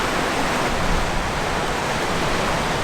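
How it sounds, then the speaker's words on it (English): A swollen, flooded river in California rushing past at full force, a dense, loud, steady roar of churning water close by, with no voices over it. "This river is still flowing."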